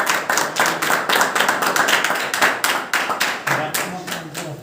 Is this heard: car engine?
no